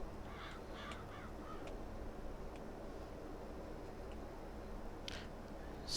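Crow-like bird caws ring out in Farming Simulator 22 over a steady low rumble of farm machinery, with a few short calls early and another faint burst near the end.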